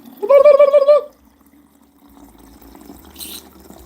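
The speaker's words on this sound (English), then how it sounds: "I'm filling up a bottle of water" A water bottle filling from a tap: a loud burst of running water for about a second, followed by quieter trickling and room noise, close up.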